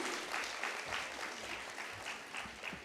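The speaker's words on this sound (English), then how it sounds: "Can we have a huge round of applause, everybody?" Audience at an awards ceremony claps steadily, a dense, continuous patter of many hands filling a large hall at moderate volume throughout, with no voices rising above it.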